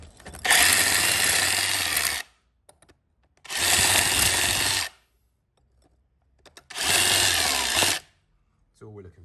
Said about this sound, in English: I'm gonna clear those out with the drill a bit more